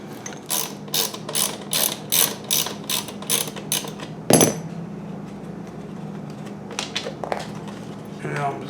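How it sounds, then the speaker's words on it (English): A ratcheting screwdriver clicks in quick rhythmic bursts while removing small Torx screws from the back of a 2008 Chevy Equinox instrument cluster, close up, followed by a sharp clack and a few scattered clicks. "on the back, we've got some little Torx screws that we got to take off first"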